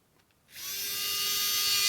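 A VESSEL 220USB-P1 electric ball grip screwdriver spins up after a short quiet pause into a steady, high-pitched motor whine that holds close and loud to the end.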